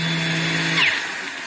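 A power sander fitted with a 3M Xtract abrasive pad whines steadily, then its brake kicks in and the motor tone drops as it slows, leaving a high whirring spin-down.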